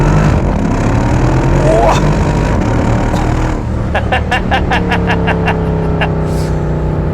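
A Mercedes CLS63 AMG launches and accelerates hard, its loud engine note rising through the gears over a constant interior drone, with a voice heard briefly early on.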